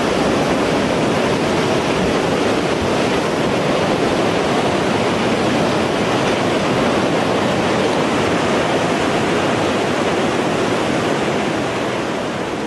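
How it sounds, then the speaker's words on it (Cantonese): Tsunami waves from the magnitude 9 Japan earthquake flooding Sendai, a dense, unbroken roar of rushing water, loud and steady throughout with no pauses. "巨浪一浪接一浪，完全冇停過。"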